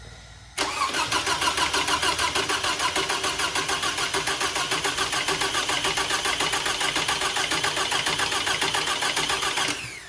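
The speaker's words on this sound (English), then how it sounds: "I'm going to go in the car and crank it" A Toyota 2.4L engine, freshly rebuilt after a head gasket job, cranks steadily with the starter in a fast, even chugging rhythm, loud and close, continuing for about nine seconds before stopping without catching.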